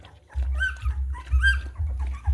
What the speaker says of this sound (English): I can just sit here and pick up the puppies and pet the puppies, and Sandy does not mind at all.